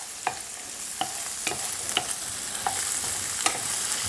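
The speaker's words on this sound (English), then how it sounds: "just give that a mix" A spoon stirs salted edamame in a frying pan, giving sharp, regular scraping clacks about every half second over a soft, continuous sizzle.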